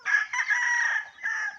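A rooster, just caught, lets out a strained crowing cry that rises, dips briefly and resumes, loud and close with no talk over it.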